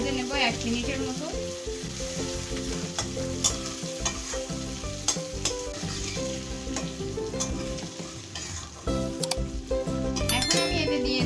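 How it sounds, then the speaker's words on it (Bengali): Pabda fish pieces fry with pointed gourd, turmeric and salt in a pan, a steady close sizzle punctuated by utensil stirring, light clinks and scrapes against the metal. "মাছগুলো দিয়ে হালকা একটু ভেজে নেব 1 মিনিটের মতো"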